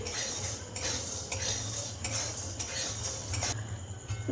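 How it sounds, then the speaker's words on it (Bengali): Lentils and cinnamon dry-frying on low heat in a pan, a spoon scraping and stirring in repeated rhythmic strokes with light metallic clinks and a faint sizzle, steady and fairly quiet with no talk. "ডাল আর দারুচিনিটা আমি ভেজে নিচ্ছি"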